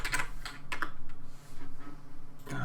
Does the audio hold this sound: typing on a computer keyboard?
yes